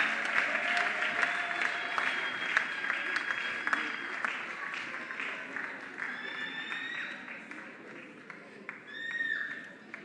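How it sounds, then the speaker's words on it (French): Audience applauding contestants at a grand finale competition, a long stretch of crowd clapping with cheers and whistles rising through it, fading somewhat before a late swell. "Est-ce qu'on peut applaudir pour eux, s'il vous plaît?"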